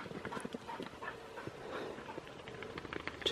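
A pig hunting dog pants rapidly and rhythmically close by in New Zealand bush, with rustling movement and footfalls around it and no talking.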